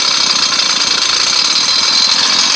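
A carbureted engine running on a very lean fuel setting with a boost bottle fitted, close up, with a steady rough buzzing drone and no throttle input.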